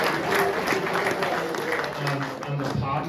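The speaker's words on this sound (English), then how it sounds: "Can I just have a round of applause for James and the team?" An audience at a motorcycle show claps in a round of applause for a race team, a steady mass of hands from a nearby crowd.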